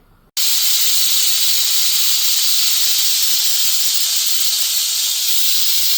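A pressure cooker whistle vents steam in a loud, continuous hiss that bursts on abruptly and holds steady, close by.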